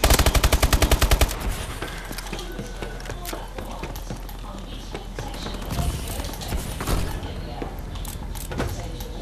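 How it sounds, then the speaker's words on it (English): Rapid automatic gunfire in a multiplayer shooter video game, a dense burst of shots opening loud and close, then scattered shots and impacts continuing amid busy game noise. "Too many people shooting me!"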